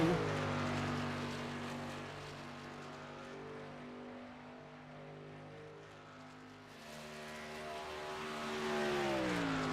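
A racing truck engine howls through a qualifying lap at Chicagoland Speedway, loud and steady with harmonic engine tones that dip slightly mid-lap and then climb again as the revs build, with no talk over it.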